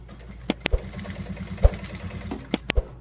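A sewing machine runs a short seam along the edge of fabric at stitch length 4.5 with polyamide thread top and bottom, a steady close mechanical whir broken by several sharp clicks and thumps.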